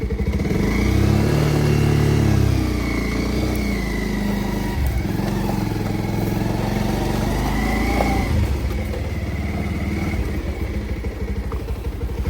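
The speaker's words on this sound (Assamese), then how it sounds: "এয়া মোৰ কাৱাসাকি বাইকখন" A Kawasaki motorcycle rumbles loudly and close on a ride between Arunachal and Assam, its engine droning steadily and rising and falling with the throttle. No voices are heard.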